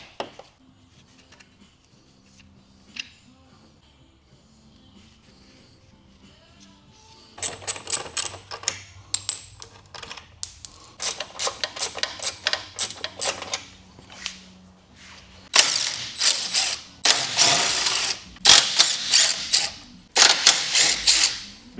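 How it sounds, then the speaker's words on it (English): Hand and power tools work on the oil cooler of a Nissan 370Z during a front-end teardown, starting quiet and then breaking into rapid metallic clicking and ratcheting bursts, with louder sustained whirring runs near the end. "Let's take this oil cooler off."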